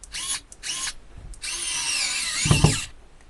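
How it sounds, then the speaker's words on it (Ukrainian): A Dnipro-M CSD-36X cordless screwdriver whirs in two short bursts, then runs longer as it drives a small 20 mm self-tapping screw, ending with a couple of thuds as the screw seats, close and loud. "Саморіз 20 невеликий, і спробуємо закрутити."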